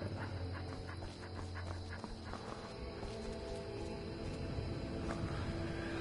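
A dog in the video game Skyrim VR, heard within a busy, continuous game soundscape of ambient noise and movement, with no clear bark standing out.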